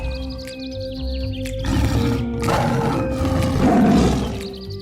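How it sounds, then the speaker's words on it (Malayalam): A cartoon lion roars in a forest, a long, loud, rumbling roar swelling over a sustained ambient bed of wildlife sounds, with no speech. "കാട്ടിൽ സിംഹത്തിന്റെ അലർച്ച കേൾക്കുകയും ചെയ്തു അവർ."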